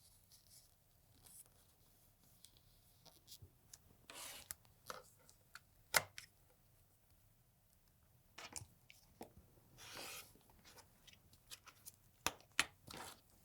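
Quilting fabric pieces stacked on foundation paper are trimmed at close range: scattered soft cuts, paper crinkles and handling rustles at irregular intervals over a quiet background, with no speech.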